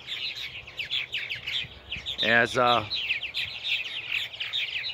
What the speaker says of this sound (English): a good portion of my martins have fledged their youngs, at least the older birds have